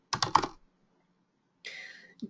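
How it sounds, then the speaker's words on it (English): A short burst of computer keyboard keystrokes entering a clerk code at a retail returns workstation, a quick cluster of clicks, a pause, then a few more taps, close and clear. "I'm going to type in my clerk code."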